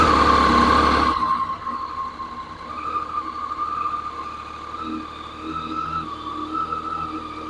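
A Yamaha FZ-09 motorcycle engine idling while warming up, a steady close hum that drops after a louder first second and then wavers gently, with no talking.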